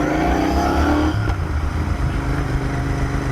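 A Royal Enfield Continental GT650, converted from an Interceptor 650 and fitted with a modified loud exhaust, roars close by with a deep, strong engine note that drops slightly partway through and then carries on steadily.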